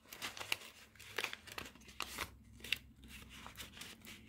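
A paper banknote is handled and slipped into a paper budget envelope, making close, quiet crinkles, rustles and short crisp snaps in an uneven rhythm.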